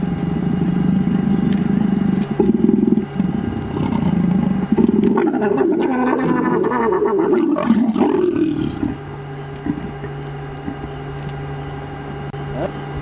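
Leopards mating at close range, almost against a safari vehicle, let out harsh rasping roars and growls, loud and sustained through the middle, with insects chirring and a low engine hum continuing underneath.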